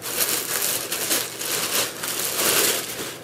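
Plastic crinkles and rustles in several short bursts, a close, dry crackling handled by hand with no talking.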